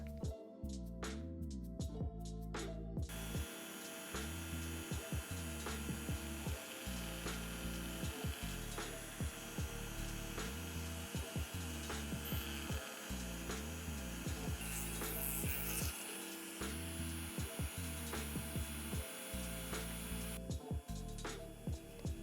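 A continuous whirring drill bores holes into clay balls for a doll joint, its pitch wavering steadily for about twenty seconds, close and fairly constant.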